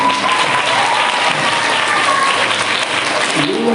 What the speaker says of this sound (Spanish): Aplauso para el bibliotecario.